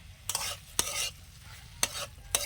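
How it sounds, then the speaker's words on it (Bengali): A spatula scrapes and stirs taro leaves in a pan with four sharp, close strokes over a soft sizzle of frying. "খুন্তি দিয়ে ভালো করে সব একসাথে মিশিয়ে নেব"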